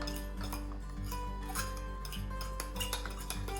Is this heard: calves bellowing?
no